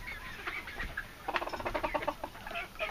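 Americana hens and a rooster cluck in a backyard chicken coop and run, a close burst of rapid, repeated clucks rising in the middle over steady outdoor background hiss.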